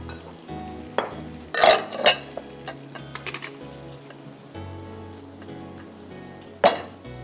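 Koyla Chicken frying in a pan, a low sizzle under a steady kitchen hum, punctuated by a few sharp clinks and scrapes of a utensil against the cookware.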